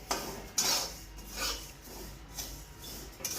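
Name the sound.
sesame seeds being roasted and stirred in a pan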